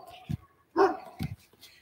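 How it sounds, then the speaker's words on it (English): A pet dog barks outdoors in a few short, loud, separate yaps spaced apart, close to the listener. "That's our dog."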